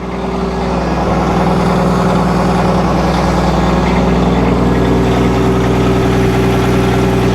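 A loud, steady truck engine with straight pipes and possible exhaust leaks idles with a deep, rumbling open-exhaust drone that fills the whole stretch without pause.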